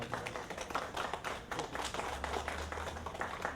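Audience clapping for a certificate of appreciation award at a school division kick-off ceremony, steady dense applause of moderate loudness filling the room, with a low hum underneath.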